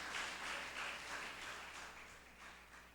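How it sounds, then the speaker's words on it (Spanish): A church congregation applauds, a soft wash of many hands clapping at once that fades slightly toward the end, distant and faint. "Den un aplauso para el hermano."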